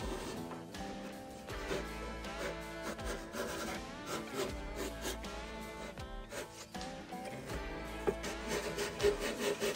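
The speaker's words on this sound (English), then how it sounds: "I used a saw to trim off the edges and work on the top of the stem." A hand saw trims the edges of a wooden boat stem in rhythmic rasping strokes, close and fairly loud, with uneven pauses between pushes.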